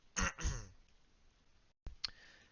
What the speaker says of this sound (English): I'm trying to clear my throat while doing this as well